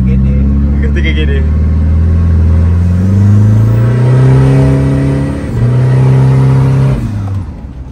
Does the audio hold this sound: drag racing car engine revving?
yes